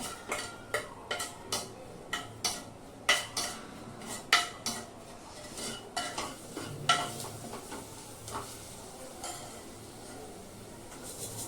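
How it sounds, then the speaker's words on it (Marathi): A spoon scrapes and taps against a pan while masala is stirred, giving a quick series of clinks and knocks that slows and fades, with a faint sizzle underneath. "तो चांगला स्मॅश करून घ्यायचं चांगलं व्यवस्थित हलवून घ्या"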